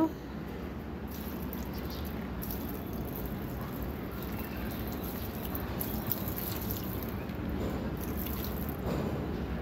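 Water is poured and splashed across a balcony floor during cleaning, a steady wash of running, dripping liquid heard close by, without speech.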